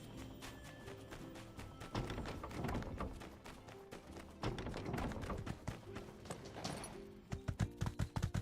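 Horse hooves clip-clopping in a video game as a horse is ridden, a steady rhythmic run of hoofbeats that ends in a crisp burst of closely spaced clops, faint in the mix with game sounds.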